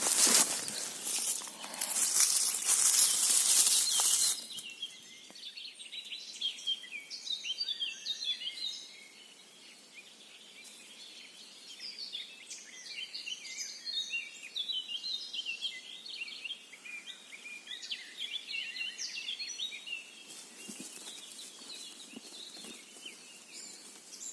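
Birds sing and twitter in quiet woodland in Rivne region, Ukraine, during mushroom picking, with a burst of rustling, crunchy handling noise at the start and again near the end.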